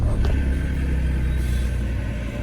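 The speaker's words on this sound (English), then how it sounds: "give the engine some startings" Engine of a Citroen C1 / Aygo city car revving after a throttle cable adjustment, a steady close, loud low rumble that holds throughout with no talk over it.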